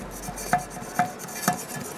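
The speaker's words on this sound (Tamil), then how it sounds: "இந்த ஓரத்தெல்லாம் கத்தி வச்சு இந்த மாதிரி லேஸாக விளக்கி விடுங்க" Knife scraping around the inside edge of a marble cake pan, three short rasping strokes in an even rhythm about half a second apart, close and fairly quiet.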